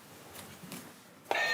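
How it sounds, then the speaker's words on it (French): A connected doorbell alert sounds as a sudden electronic beep tone near the end, following a few soft rustles in a quiet room, with no voices. "Cette sonnette connectée envoie un message d'alerte sur les téléphones portables de la famille."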